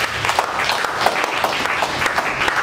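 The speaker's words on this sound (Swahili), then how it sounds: "Hebu mpe Yesu makofi tukufu." A church congregation applauds, a full, close round of clapping with uneven bursts, sustained throughout.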